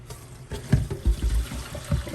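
Cooking liquid from beans and rice pours out of a thermos in short, close splashing gurgles, several uneven spurts over a couple of seconds.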